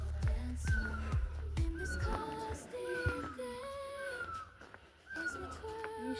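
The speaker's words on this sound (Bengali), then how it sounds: "পাখিটার আওয়াজ শোনা যাচ্ছে" Several clear tonal bird calls, short descending whistles repeated at intervals, heard over a low steady background hum in a quiet, green outdoor setting in Kurseong near Darjeeling.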